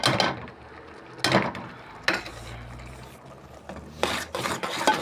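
A spoon stirs scrambled egg into food in a pan, giving several separate raspy scraping strokes with quieter gaps between them, close by and alone.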